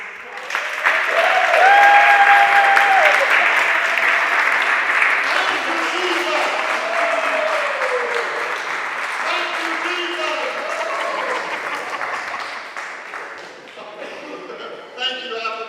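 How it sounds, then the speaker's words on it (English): A crowd at a talk on the African diaspora breaks into sustained applause, loud and dense at first, then slowly thinning over about fifteen seconds, with a voice speaking over the clapping. "can we all give him a big round of applause?"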